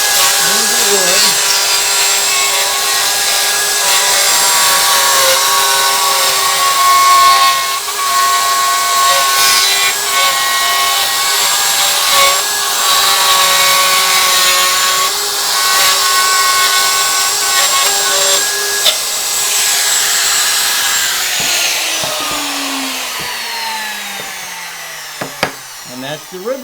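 A wood router cuts a wooden sign along a template guide, producing a loud, steady high whine with grinding cutting noise for over twenty seconds before spinning down as it is switched off.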